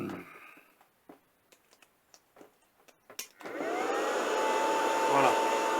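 A heat gun is switched on to heat a large nut locked with Loctite. A few small clicks and taps come first, then a loud, steady blowing roar starts partway through and runs to the end.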